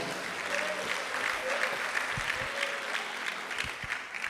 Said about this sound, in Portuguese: Quem crer, bata palmas e dá glória.